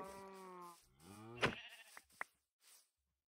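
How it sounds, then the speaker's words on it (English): Sheep bleat in a Minecraft-style video game, a few short wavering bleats in quick succession followed by brief clicks and soft game sounds, close and fairly quiet. "Do you want me to attempt to get the sheep out of the cow pen, or should I just kill them?"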